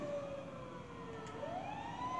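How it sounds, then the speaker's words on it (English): A video game ambulance siren wails steadily in the distance, its pitch sliding down and then rising again, with no voices present. "that's the ambulance you're hearing over there as you see it."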